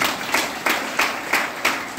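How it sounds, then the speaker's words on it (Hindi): Audience clapping at a seminar, heard as a short burst of sharp, regular claps in a steady rhythm, fairly loud and close, with no talk over it. "उनके लिए जोरदार तालियां।"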